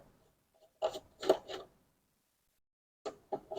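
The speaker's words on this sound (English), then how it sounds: "Fourth one being loosened right now." A screwdriver loosens one of six screws on a blender, making short dry scraping and rasping bursts in two separate clusters, close and quiet with silence between.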